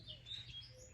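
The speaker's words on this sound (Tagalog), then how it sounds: "Ayan, may mga bird siya oh." Birds chirp near a nest by a lakeside in the countryside, giving a few faint, high tweets over a low rumble of outdoor background noise.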